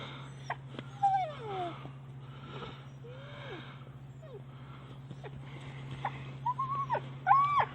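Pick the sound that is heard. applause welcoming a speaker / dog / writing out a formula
dog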